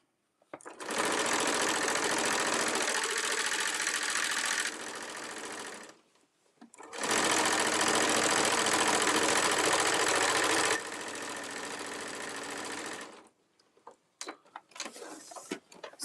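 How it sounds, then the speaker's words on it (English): Sewing machine stitching the bottom of a fabric cosmetic bag, running in two long steady bursts of fast mechanical whirring and ticking, loud and close, with a short pause between them and light handling noises at the end. "all you're doing is sewing down the bottom portion of the bag"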